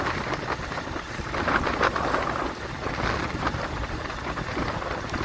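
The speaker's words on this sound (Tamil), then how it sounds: "யாழ்ப்பாணத்தில் சரியான மாதிரிக்கு மழையும் பெஞ்சு காற்றும் சரியாக அடிக்கிறது" Heavy rain pours down in a dense, constant hiss while gusty wind swells and fades beneath it, during a storm in Jaffna, Sri Lanka.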